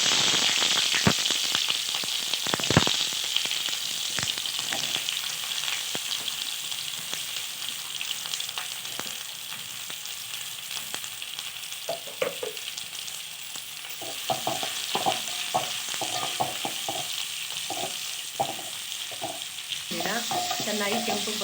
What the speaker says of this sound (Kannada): ಚೆನ್ನಾಗಿ ಕೆಂಪು ಬರೋ ಗಂಟ ಫ್ರೈ ಮಾಡ್ಕೋಬೇಕು.